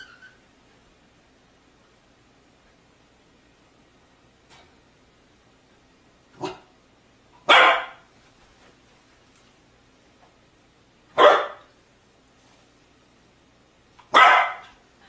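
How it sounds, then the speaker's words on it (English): Four sharp, single dog barks spaced a few seconds apart in an otherwise quiet room, close and loud. "Ignore him when he barks."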